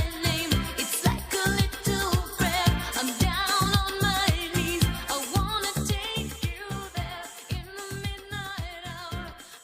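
Madonna's "Like a Prayer" played forwards: a dense, full pop mix with a steady beat and layered voices and instruments, loud and continuous throughout.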